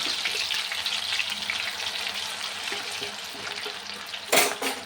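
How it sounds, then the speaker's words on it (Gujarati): Shredded raw banana drops into hot oil and fries with a steady broad sizzle and crackle, with a louder splashy burst near the end as more shreds hit the oil. "તેલ સરસ ગરમ થઈ ગયું છે અને હું કેળાની ચીપ નાખી દઉં છું"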